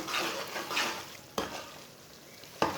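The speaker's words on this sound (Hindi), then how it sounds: "सूजी को चम्मच चलाते हुए भूनना, इसे बिल्कुल भी जलने नहीं देना।" Semolina being stirred and roasted in oil with a spoon for halwa, a steady soft scraping sizzle with two sharp spoon knocks against the pan, close up and alone.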